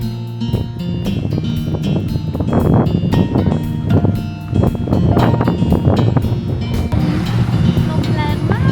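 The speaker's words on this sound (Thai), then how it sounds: "ลมแรงมาก" Strong wind by the sea at Kamakura buffets the microphone in loud, continuous rumbling gusts while people talk nearby.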